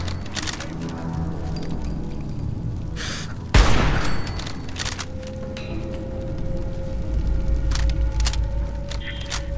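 Sniper rifle fire in Fallout 4, with one loud, booming crack standing out over steady background gunfire and ambience, and further distant shots after it.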